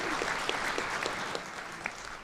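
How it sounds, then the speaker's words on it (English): Audience applause at a town hall panel discussion on wildfire readiness, a steady round of clapping that fills the space for a couple of seconds and fades slightly toward the end. "Round of applause."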